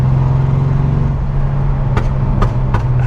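A Datsun 280Z barn find, off the road for eighteen years, idles with a steady low engine drone, then several sharp exhaust pops crackle near the end.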